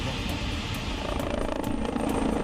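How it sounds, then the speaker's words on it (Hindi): Firefighting helicopters work over a wildfire near Madrid, with a throbbing rotor chop and engine roar that are loud and continuous, pulsing rhythmically with no voices. "आग को फैलने से रोकने के लिए 10 हेलीकॉप्टर विमान को लगातार लगाया गया है।"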